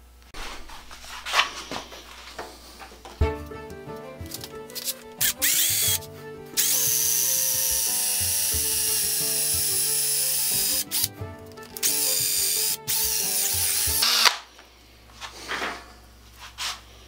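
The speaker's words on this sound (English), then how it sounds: "Now I have to drill the cross hole." A power drill whines at steady speed in two long bursts, boring a cross hole into a wooden handle for a two-man saw, with handling clatter and bumps before and after.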